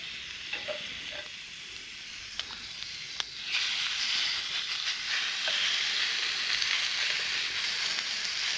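Steak sizzles in a cast iron bushcraft cooker over an outdoor fire, a steady broadband frying hiss that swells louder partway through, with a few faint clicks and scrapes early on.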